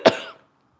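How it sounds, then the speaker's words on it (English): A single sharp cough, close and loud, from a person cooking chicken paprikash meatballs, fading quickly into silence. "And one more cough coming."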